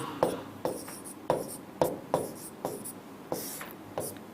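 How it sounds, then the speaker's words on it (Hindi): Pen or marker writing words on a board during a class, a series of close, quiet taps and short scratching strokes at an irregular rhythm. "नीचे के जो दोनों शब्द हैं उनका प्रोनाउंसिएशन भी मैं लिखते हुए चल रहा हूं।"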